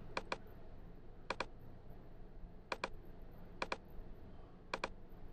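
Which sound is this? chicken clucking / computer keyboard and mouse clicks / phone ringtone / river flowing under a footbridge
computer keyboard and mouse clicks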